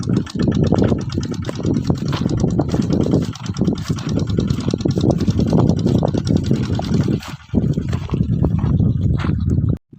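Tractor engine running in a farm field, a loud continuous close-up rumble with irregular chugging, voices faintly under it.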